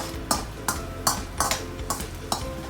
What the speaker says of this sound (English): now let's quickly stir fry it